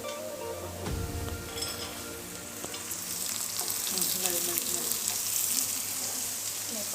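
Onions fry in a hot pan at home, giving a steady, crackling sizzle that swells over a few seconds, with occasional clinks of a utensil against the pan.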